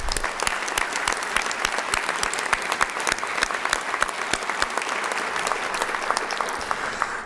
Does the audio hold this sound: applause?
yes